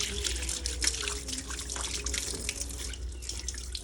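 Running tap water splashes steadily over a small load of dishes being washed in a home sink, with intermittent clatter and drips close by, no talking.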